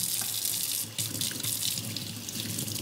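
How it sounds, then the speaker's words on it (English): Water runs steadily from a kitchen sink tap onto hands being washed between steps of cooking fried chicken, a continuous close hiss with light splashing and no talk. "I'm going to wash my hands again."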